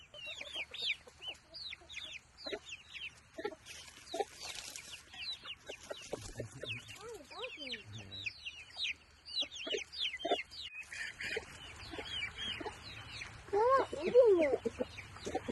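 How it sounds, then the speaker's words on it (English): Chickens cluck and squawk busily around feed on a farm, many overlapping calls near and far with scattered bursts. "you want to help me feed the chicken?"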